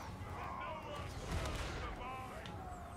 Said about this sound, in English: Master Engineer still firing away at the Quaddle